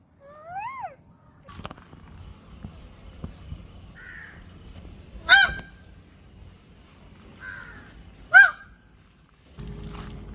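Geese or ducks honk at the Debrigarh Nature Camp in Odisha: two loud, sharp honks stand out over quiet outdoor ambience, with softer bird calls in between and no talking.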